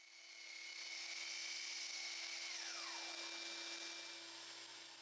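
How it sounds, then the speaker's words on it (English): A power saw cutting a chunk off the end of a spalted firewood log, a steady loud whine that holds for several seconds, then drops in pitch as the cut finishes and fades. "Here, I'm cutting off a chunk on the end to make a bandsaw box later."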